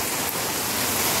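Steady rain pouring down during a rainy spell in a farming area, a dense, continuous hiss that stays loud and even with no voices.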